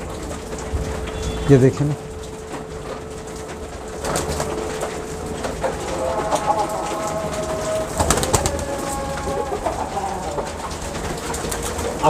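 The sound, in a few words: pigeons cooing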